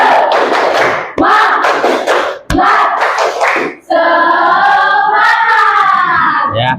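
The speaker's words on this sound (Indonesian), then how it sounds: "berikan tepuk tangan" A class claps together in sharp, rhythmic group bursts for a cheer, loud and close, then breaks into voices chanting in unison.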